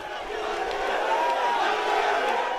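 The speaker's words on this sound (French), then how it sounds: "Beaucoup sont hués par la foule qui commence à grossir." A large outdoor crowd jeers and shouts at arriving deputies outside a parliament chamber, a dense, sustained roar of many voices at steady loudness with no single voice standing out.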